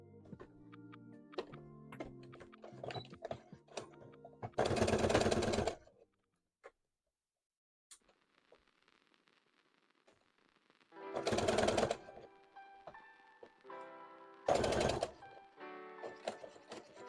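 A sewing machine stitching the seams of a Pokemon plush, with several loud bursts of rapid mechanical stitching between stretches of quieter clicks and thunks, and a pause of near silence in the middle.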